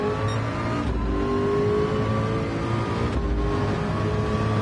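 In the Le Mans VR racing game, a race car's engine drones steadily near the Mulsanne curve, with brief dips and swells in pitch as it shifts and accelerates, alone without voices.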